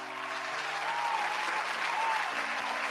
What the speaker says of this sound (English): Those claps sound crispy.